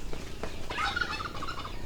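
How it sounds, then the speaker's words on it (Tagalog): A free-range turkey gobbles once, a quick rattling burst of calls, fairly faint and at a distance, with low outdoor background noise. "Ito ang kanyang mga manok at pabo na nakawala."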